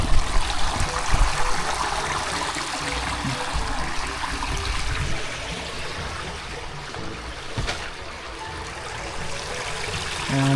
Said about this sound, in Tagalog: Mahina na po ang pasok ng tubig.